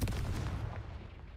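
A Confringo spell explosion in the video game Hogwarts Legacy, a loud, close blast with a booming low-end thump that decays over about a second.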